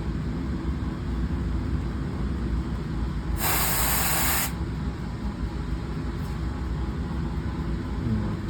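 A short burst of compressed air sprays in a lab during polishing of a 3D-printed AlSi10Mg tensile bar, making a loud hiss of about a second over a constant low equipment hum.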